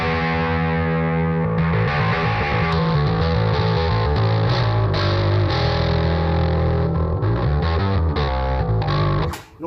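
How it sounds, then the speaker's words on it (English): A loud Donner Alpha electric bass, heavily distorted and compressed, plays a steady riff with a thick tone, stopping abruptly at the very end. "Now, I like the compression on with the distortion"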